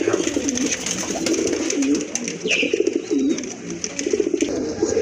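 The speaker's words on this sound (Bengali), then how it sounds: "এখানে কিন্তু আরেক জোড়া কবুতর দেখতে পাচ্ছেন" Several pigeons in a loft, short-faced birds among them, coo continuously in overlapping, throaty, rolling calls, close and fairly loud, with no voices.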